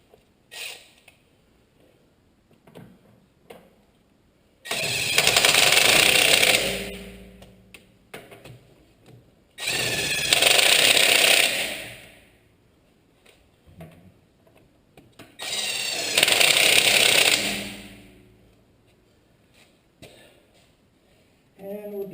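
Harbor Freight Earthquake XT half-inch drive impact wrench, used on a brake caliper rebuild. It fires in three loud bursts of about two and a half seconds each, with quiet workshop pauses between them.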